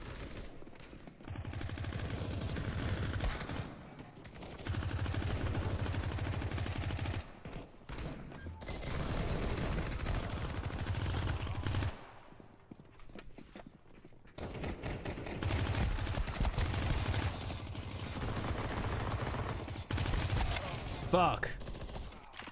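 Rapid submachine gun fire from an MP49 in Counter-Strike 2, loud sustained bursts broken by short pauses, with clattering game effects between volleys.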